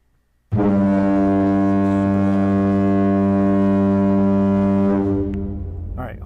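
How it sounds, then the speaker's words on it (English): A foghorn sound effect from the Djuced DJ app on an iPad blares as one long, loud, deep tonal blast with strong harmonics, held about four and a half seconds before fading into a lingering tail. "And here's the foghorn."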